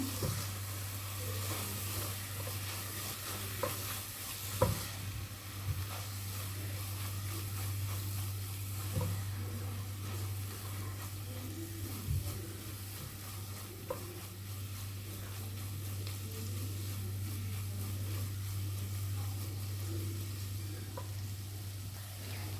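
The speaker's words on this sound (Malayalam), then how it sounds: "നമ്മൾ നേരത്തെ വേവിച്ച് ക്രഷ് ചെയ്ത് വെച്ച നമ്മുടെ ബീഫ് നമുക്കിതിലേക്ക് ഇട്ട് കൊടുക്കാം. നമുക്ക് നന്നായിട്ട് മിക്സ് ചെയ്തെടുക്കാം." Cooked crushed beef is stirred into a spiced masala in a pan, giving a soft, continuous sizzle with occasional spoon clacks and scrapes over a steady low hum.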